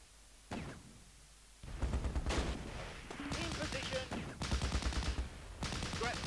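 Battle gunfire in the video game Close Combat: dense, loud bursts of machine-gun and rifle fire crackling in rapid clusters, and voices can be heard shouting amid the shooting.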